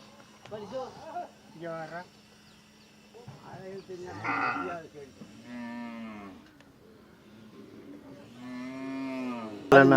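Cattle at the Devakottai livestock market low and moo several times at moderate distance, the calls rising and falling between stretches of people talking nearby.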